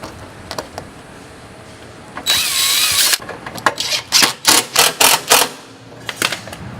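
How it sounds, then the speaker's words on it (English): A power drill pre-drills holes for a Ford Raptor lower grille replacement, whirring in one long burst, then several short repeated bursts, loud and close, with scraping and clicking in between. "go ahead and pre-drill your next set of holes"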